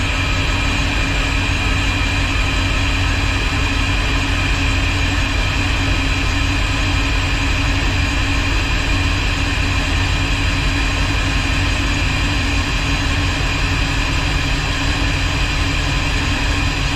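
A Volvo Penta boat engine runs steadily and loudly at close range, a dense, unchanging drone with no break and no voices for the whole stretch.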